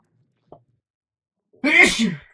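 A single sharp dog sneeze in the video game R.E.P.O., loud and close, preceded by a faint brief click; no talking.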